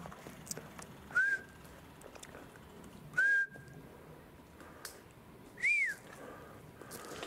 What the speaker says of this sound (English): The reason I whistle, guys,